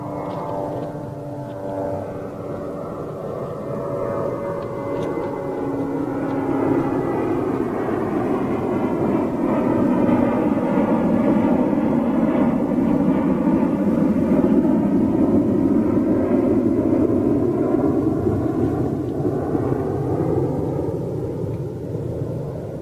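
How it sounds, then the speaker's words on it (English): An arriving TAP Air Portugal Airbus A330neo jet makes a steady, broad roar that builds gently and peaks mid-way, with a sweeping engine whine, heard at a distance with no talk. "TAP 330 Neo inbound."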